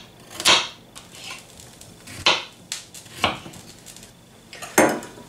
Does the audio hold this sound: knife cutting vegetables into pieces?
yes